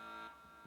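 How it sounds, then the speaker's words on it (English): A soundboard alarm effect pressed by mistake during a horse racing picks talk, a short, faint steady buzzing alarm tone that fades under a bit of low background sound. "Wrong button. That's the alarm button."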